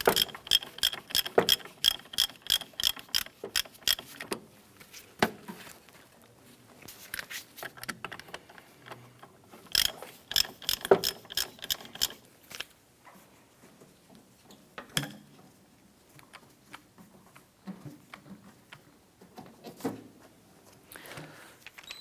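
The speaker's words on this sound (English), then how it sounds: "Using a 17mm socket to remove the forward mounted bolt right here." A ratchet with a 17mm socket loosens the forward engine mount bolt on a 2004-2008 Acura TL, giving rapid close clicking runs at first, then sparser bursts of ratcheting separated by pauses.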